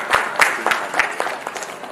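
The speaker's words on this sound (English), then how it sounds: "Big round of applause for Mohammad." Scattered clapping from a small group, uneven and moderately loud, tapering off over two seconds with no voices on top.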